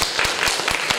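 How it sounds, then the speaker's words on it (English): An audience on an elementary school tour gives a brief round of applause, a quick, moderately loud patter of hand claps with a few sharper individual claps standing out. "How about we start with giving them a round of applause?"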